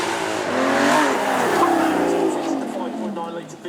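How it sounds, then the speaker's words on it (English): Aston Martin V12 Vantage S with its 5.9-litre V12 revving at a supercar event, a loud rising and falling engine note with harmonic sweeps, fading slightly toward the end, with a commentator talking over it. "this is a V12 Vantage S"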